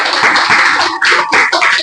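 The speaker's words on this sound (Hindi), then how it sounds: "चलिए जोरदार ताली होना चाहिए इसके बाद।" An audience gives loud, dense applause at a gathering honouring a top scorer in an excise constable exam, a continuous wash of many hands clapping with a brief dip in the middle before it picks up again.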